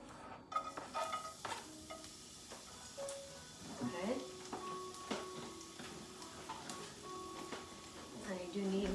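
Garlic frying in a pan, a soft steady sizzle with a spatula scraping and tapping and scattered clinks of kitchen utensils, at a quiet level.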